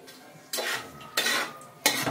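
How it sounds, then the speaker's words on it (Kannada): Biryani masala being roasted in a pan gets three separate scraping strokes of a metal spoon against the pan, each about half a second long, with a faint sizzle underneath and no speech. "ಅಂತವರೆಗೂ ರೋಸ್ಟ್ ಮಾಡ್ತಾ ಇರಿ."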